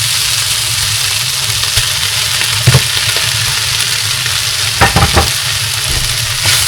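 Hilsa fish head and tail fry in oil in a pan with a steady, loud sizzle, broken by a few sharper spatters and stirring knocks.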